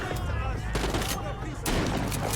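Gunfire bursts in The Walking Dead: Saints & Sinners VR game, a dense, continuous loud fusillade of overlapping shots filling the whole stretch, with a voice faintly underneath.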